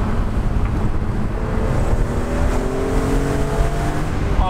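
A BMW Z4 M engine drones steadily with pitch slowly rising, heavy wind rush and road noise all around, driving with the roof down.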